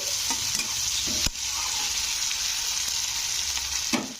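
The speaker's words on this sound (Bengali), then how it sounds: "টমেটোটা দিয়ে নাড়তে হবে এক মিনিট মানে এক থেকে দু মিনিট মতন নাড়তে হবে" Tomatoes frying with curry leaves in a pan for a South Indian style brinjal and peas dish sizzle steadily and close, broken by a few sharp spoon scrapes and knocks while being stirred.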